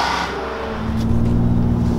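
A 2017 Nissan Maxima on the move, its engine droning low and steady from inside the cabin, with a sustained tone that rises slightly as it pulls away.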